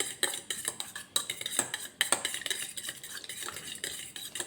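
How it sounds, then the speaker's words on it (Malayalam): Two eggs with salt and pepper are beaten in a bowl, making a rapid, irregular clatter of a utensil against the dish, close and fairly quiet, with no talking. "നമുക്ക് 2 മുട്ട, കുറച്ച് ഉപ്പും പെപ്പറും ഇട്ടിട്ട് മിക്സ് ചെയ്ത് വയ്ക്കാം."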